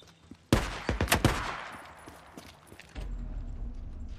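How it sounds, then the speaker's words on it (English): Gunfire in the video game Days Gone: a burst of several sharp, loud shots in quick succession, followed by a fading tail and a low rumble. "hear gunshots, but I don't see anyone."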